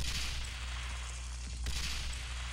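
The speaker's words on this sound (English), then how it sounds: "I gotta throw another grenade through there" A grenade goes off in the video game Banzai Escape 2, a heavy blast with a deep rumbling low end that swells and then fades over a couple of seconds, with no talking.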